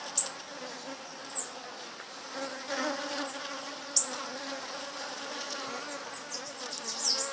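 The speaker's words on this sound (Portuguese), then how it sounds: "São muitas abelhas." City bees buzz in a soft, continuous drone, with several close passes swelling briefly louder against the quieter hum of the swarm.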